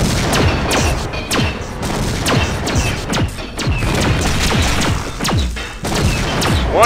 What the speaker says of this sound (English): Once he's dead, the grenades will stop dropping.